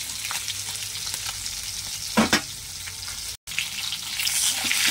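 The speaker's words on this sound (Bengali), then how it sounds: "ততক্ষণে মাছটা ভাজা হচ্ছে, ভাজা হোক ভালো করে।" Whole koi fish fry in oil in a pan for a Bengali oil-and-chilli dish, giving a steady, close broadband sizzle with a couple of brief louder bursts and a momentary gap midway.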